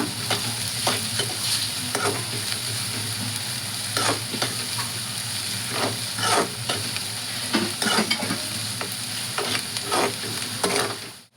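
Spring onion frying in a pan for zunka bhakri, a continuous close sizzle broken by repeated rhythmic spatula scrapes and knocks against the pan.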